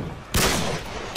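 FAL rifle shots in a video game trickshot replay, two loud close bursts of gunfire, the first sustained and the second cut short at the end, with no talk.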